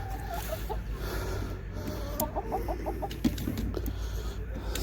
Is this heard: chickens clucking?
yes